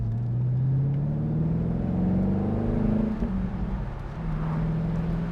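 A 2004 Chevrolet Corvette accelerating while driving, its engine note rising steadily in pitch through the gears, with a brief dip near the middle before climbing again, heard from inside the car over continuous road rumble.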